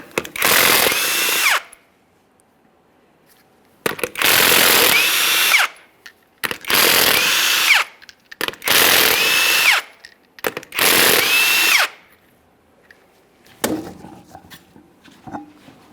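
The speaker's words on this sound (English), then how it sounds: "we're going to remove all 5 of our 19mm lug nuts and then we can get the wheel off of here" Impact gun spinning off the five 19mm lug nuts on a 2007-2017 Jeep Wrangler rear wheel during a brake job: five loud, close bursts of high-pitched whirring and hammering, each about one to two seconds, separated by short pauses, with faint clinks after.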